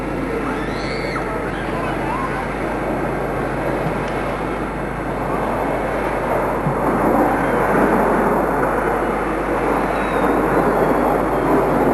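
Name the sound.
single-engine jet trainer aircraft flying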